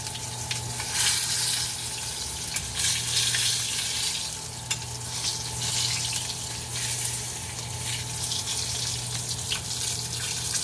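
Garlic sizzling in melted butter in a pan, a steady, close bubbling crackle that carries on without a break, with a low hum beneath and no talk.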